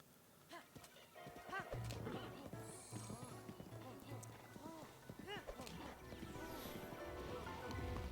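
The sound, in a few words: horse hooves and neigh in video game Zelda Breath of the Wild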